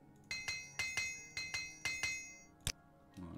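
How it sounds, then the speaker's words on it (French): A hammer strikes equipment during repair in the fantasy role-playing game The Elder Scrolls III: Morrowind, six ringing metallic clangs in an even rhythm, each decaying, then one sharper click before a soft rustle. "on va continuer à utiliser le marteau de compagnon pour réparer le reste"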